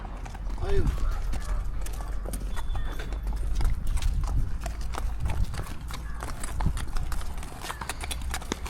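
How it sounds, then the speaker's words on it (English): A large group of racing horses passes along a road in the UK, their hooves clip-clopping in a dense, overlapping rhythm close by for several seconds. A brief whinny is heard near the start, and faint voices can be heard in the background. "These are definitely racing horses."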